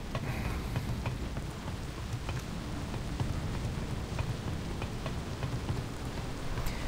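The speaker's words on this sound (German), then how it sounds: "Also jetzt fängt es an zu regnen." Rain falling in the video game Far Cry 3, a steady, even hiss of dense raindrops with scattered sharper patter, continuous throughout and heard alone.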